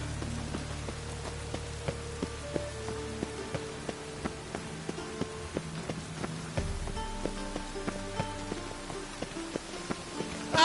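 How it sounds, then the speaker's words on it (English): Rain falls steadily in a PS4 video game, a dense close patter with scattered sharper drips and a low rumble that drops out partway through, with no voices. "Even the rain smells like piss in this town."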